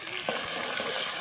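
Chopped green chillies and tomatoes fry with garlic in a pan, a brief dense steady sizzle with a soft stir or two, close and even.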